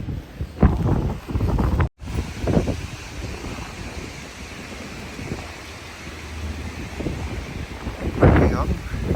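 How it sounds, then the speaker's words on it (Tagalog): Strong cold wind blows snow outdoors in America, roaring as steady buffeting gusts across the microphone, with a brief dropout and someone talking under it. "Saka sobrang hangin."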